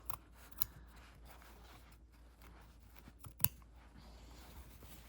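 Scissors trim fabric for a small sewn shopping bag, giving faint, close snips with two sharper cuts standing out against a quiet room, and no voices.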